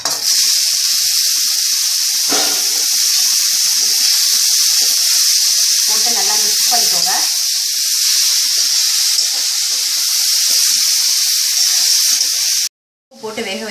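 Pepper powder and spices frying in hot oil for a cauliflower pepper fry, a steady loud hiss and sizzle throughout with a few brief crackles and stirring noises, ending abruptly.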